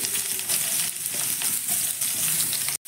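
Thinly sliced onions hitting hot oil in a pan, a loud continuous sizzle with crackling bursts, close and filling the whole span before cutting off.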